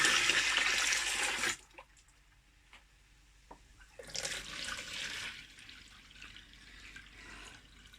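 Cold tap water running into a homebrew beer container, a loud rushing stream for about a second and a half, then quiet drips and knocks before a softer running flow resumes.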